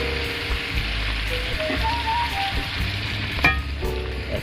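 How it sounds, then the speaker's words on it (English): Veal chops sear in a hot pan with a steady, close sizzle and bubbling fry, a short scrape or utensil clatter near the end, no talking. "I'm going to sear it a little bit more"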